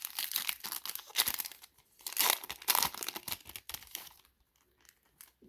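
A Donruss baseball card pack wrapper crinkles and tears in close, bursty handfuls of plastic rustling with brief pauses between, fading to quieter handling at the end.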